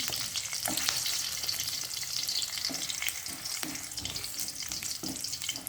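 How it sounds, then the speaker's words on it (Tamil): Green chillies with garlic sizzling and frying steadily in a pan, a dense continuous crackle with occasional stirring knocks throughout, close and fairly loud. "இரண்டையும் வதக்கி விடுவோம். இது கொஞ்சம் பொரியட்டும்."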